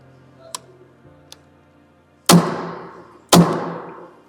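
Staple gun driving staples through felt cloth into a pool table deck: two faint ticks, then two loud sharp shots about a second apart, each with a short ringing decay.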